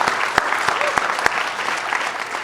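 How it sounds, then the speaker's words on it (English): An audience applauds at an outdoor street sign unveiling ceremony, steady broadband clapping filling the space with a few sharper nearby claps standing out, continuous and fairly loud. "Let's give him a big round of applause."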